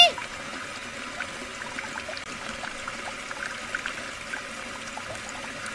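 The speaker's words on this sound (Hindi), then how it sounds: "ये आवाज वॉश बेसिन से आ रही है।" Water runs steadily from a wash basin tap indoors, a constant hiss and trickle heard at moderate level, with faint voices in the background.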